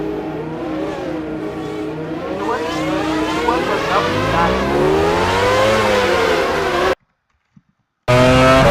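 Formula 1 car at the Monaco Grand Prix, heard onboard: a loud, high-pitched engine wails and sweeps up and down through the gears without pause, then cuts to a second of near silence before roaring back.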